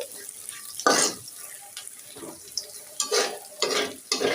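Lentils (dal) being fried in oil and stirred in a home kitchen, with several bursts of scraping and sizzling at an uneven rhythm, each rising sharply and fading, close by and moderately loud.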